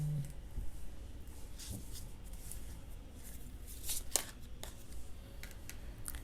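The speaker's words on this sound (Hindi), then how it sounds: "सो मैं और भी कुछ कार्ड्स लूँगी" Tarot cards being shuffled by hand in a quiet room, a soft papery riffle with a few crisp snaps and brief slaps as the cards settle, close and fairly faint.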